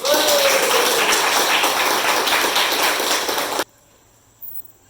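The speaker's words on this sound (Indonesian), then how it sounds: "Aplaus untuk Hasan." Applause in a classroom: a dense burst of hand clapping from a group of students fills several seconds at close range, then cuts off sharply into near quiet.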